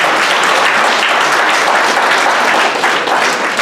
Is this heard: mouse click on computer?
no